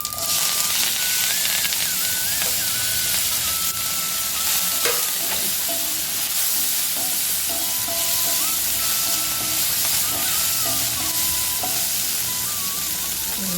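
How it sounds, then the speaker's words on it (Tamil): Okra and curry leaves sauté in a pan for one-pot sambar rice, giving a steady, close sizzle with occasional stirring scrapes throughout and no talking. "நல்லா வதங்கட்டும் இந்த வெண்டைக்காய்"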